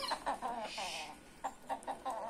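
Chickens clucking in short agitated bursts as an Indian hen squabbles with a village hen, close and fairly loud, with several quick repeated calls.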